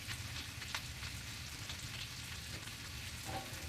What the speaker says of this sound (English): I'm going to put the asparagus on the skillet